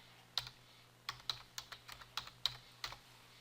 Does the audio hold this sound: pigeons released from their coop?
no